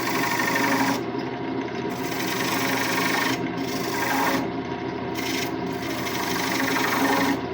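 Thread chasing tool cutting threads into wood on a lathe, a continuous loud rasping scrape with brief breaks, close up and alone.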